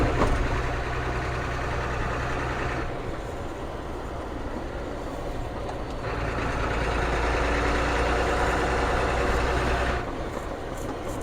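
Steady low diesel idle from a Brazilian-built Ford CF7000 truck with a 6.6-liter engine, a constant rumble that holds evenly throughout with no voices.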